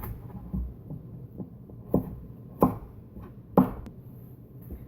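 A knife chops through a solid butternut squash on a cutting board, landing a few sharp, separate thuds spaced unevenly under a low kitchen hum.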